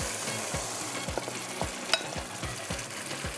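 Boiled whole moong dal going into a pan of frying masala makes a soft, close sizzle, with a rhythmic series of stirring scrapes about every half second and no speech.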